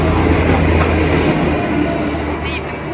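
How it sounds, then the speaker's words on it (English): Network Rail train passing through Ealing Broadway station, a loud close rumble with wheel clatter that slowly eases over a few seconds. "This looks like some kind of network rail train,"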